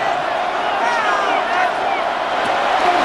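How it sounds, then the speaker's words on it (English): Stadium crowd noise from Madden NFL 26, Chiefs against Chargers, building as the offense reaches third down: a steady, loud roar of cheering fans that holds throughout, with commentary voices talking over it. "This crowd into it now as we get to third down."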